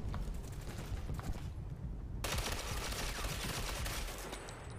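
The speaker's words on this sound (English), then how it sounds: "Can you shoot that shield so it takes damage?" Rapid automatic gunfire in the video game Ghost Recon Phantoms, aimed at a shield, a dense continuous burst of shots with no clear gaps, steady and moderately loud.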